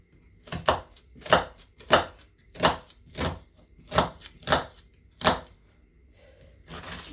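A fairly blunt kitchen knife chops food on a board as ingredients are prepared for coconut dumplings and brown stew chicken, giving about ten evenly spaced, crisp close chops in a steady rhythm, with no talk.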